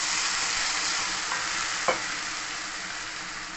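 Restaurant-style chilli chicken fries in sauce in a pan, giving a steady, close sizzle with one brief stirring scrape partway through.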